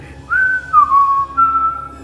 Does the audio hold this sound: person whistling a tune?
yes